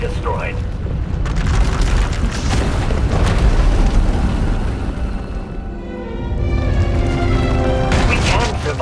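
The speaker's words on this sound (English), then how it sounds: "When it erupts, the entire asylum will be destroyed." A power eruption in the video game SWTOR, Knights of the Eternal Throne, tears through an asylum as a loud sustained rumbling explosion with crackling bursts, easing briefly before surging again under dramatic game sound.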